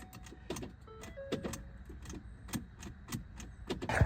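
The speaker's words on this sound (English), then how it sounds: "Oh, our car's not starting." A used car that a dealership warned against fails to start, giving a series of sharp clicking ticks in an uneven rhythm with faint whirring between them. The sound is close and moderately quiet, and nobody speaks.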